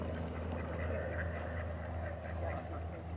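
Hungry ducks at Boomland campground in Charleston, Missouri, jostle and scramble for scraps of chicken, a dense, continuous mix of quacks and honks close by, the flock's clamor filling the whole moment with little pause.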